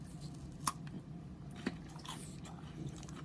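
A crunchy South African chocolate wafer bar with an aerated chocolate center is bitten and chewed close up, with two sharp crisp snaps and quiet munching between them.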